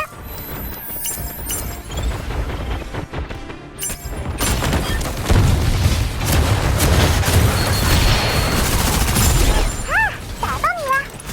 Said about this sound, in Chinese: 有枪声，果然就在这附近。